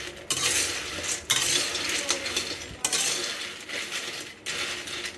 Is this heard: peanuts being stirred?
yes